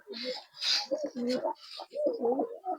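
Pigeons in a loft, kala duma and Madras breeds, give a run of soft, throaty, gurgling coos that rise and fall in close, continuous phrases.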